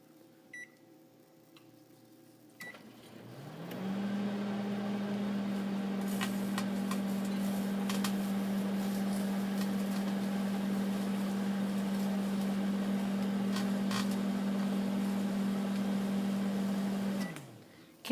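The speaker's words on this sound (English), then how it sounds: "I'm going to turn the microwave on." Microwave oven running with cut apple pieces in a microwave-safe dish inside, a steady loud hum that starts after a few seconds and holds evenly until it stops near the end.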